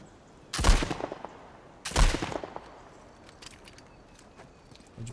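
Gunfire from a small machine gun in the video game Uncharted 4, two loud, sharp broadband bursts about a second apart, followed by quieter scattered ticks and rustling.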